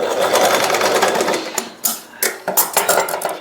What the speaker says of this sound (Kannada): ಸೊ ನಾರ್ಮಲ್ ಸ್ಟಿಚ್ ನೋಡಿ ಎಷ್ಟು ಚೆನ್ನಾಗಿ ಬಿಡುತ್ತೆ